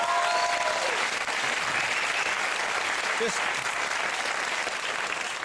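Studio audience applause at a late-night talk show, a steady, dense wash of clapping that runs the whole time at moderate level, with a voice briefly speaking over it near the start.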